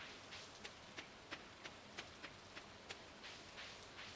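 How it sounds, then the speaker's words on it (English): Rain falling and splashing into a river in a Stardew Valley farm game, a soft steady hiss of rainfall with faint, evenly spaced splashing ticks running throughout, fairly quiet and alone. "I do love how the rain splashes into the river here too"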